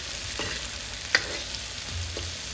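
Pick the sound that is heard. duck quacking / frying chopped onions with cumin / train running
frying chopped onions with cumin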